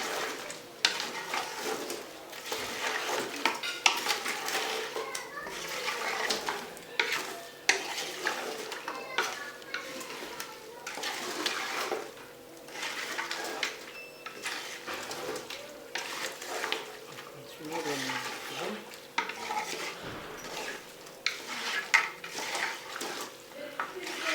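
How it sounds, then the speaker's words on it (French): A spoon stirs food in a cooking pot, scraping and clinking against the sides in a steady, close run of irregular knocks, with light sizzling underneath. "On continue de mélanger."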